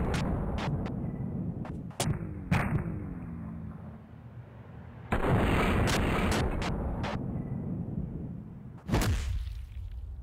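Gunfire in the indie video game Delay: a burst of sharp, loud shots, some clustered and some spaced apart, with a heavy blast near the middle and another near the end, each trailing into rumbling echo.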